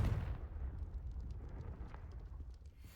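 Confringo blasting spell in Hogwarts Legacy, a deep rumbling explosion boom that fades out over a few seconds, low and heavy, with no talk.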